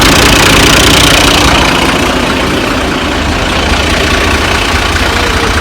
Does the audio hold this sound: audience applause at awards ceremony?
no